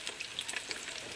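French fries deep-fry in a pan of oil, giving a faint, even bubbling hiss with light crackles up close and no voices.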